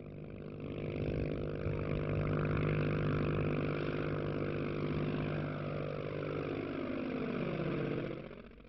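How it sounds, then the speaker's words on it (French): The engine of a 1920 Blériot XI monoplane runs steadily at close range, a loud continuous drone with a throbbing low rumble that holds even throughout and fades slightly at the end. "Le moteur tourne encore comme une horloge."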